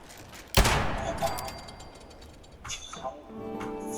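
A gun firing in Fallout 76, one sharp, loud shot with a ringing tail, then smaller follow-up hits and game noise while a person talks quietly underneath.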